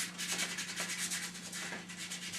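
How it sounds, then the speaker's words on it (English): A paintbrush is scrubbed erratically across canvas in acrylic painting, a soft continuous dry rubbing with quick repeated strokes, close and quiet under a faint steady hum, no voices. "The brush is rubbed erratically to show a distant hazy feel of the foliage masses."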